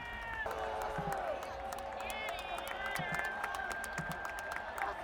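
Crowd murmur fills a packed Oakland Coliseum stadium during the final inning of the A's last baseball game there, a steady, constant buzz with scattered whistles and voices rising over it.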